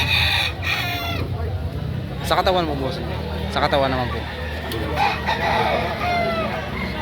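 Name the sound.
bulik banderado rooster crowing at a market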